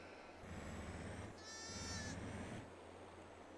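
Sheep bleat in a farming video game set on an Italian farm, a wavering bleat clearly heard over a steady low game hum in the middle of the clip.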